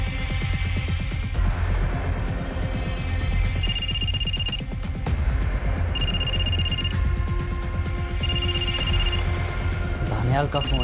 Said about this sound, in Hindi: दानियाल का फ़ोन